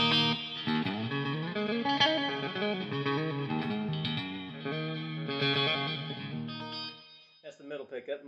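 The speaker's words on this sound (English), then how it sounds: "here's just that sterile ass clean tone" An electric guitar on its middle pickup, Mojo Tone '59 clones, plays a bright, clean chordal phrase with ringing notes through an amp, trailing off into a few softer plucked notes at the end.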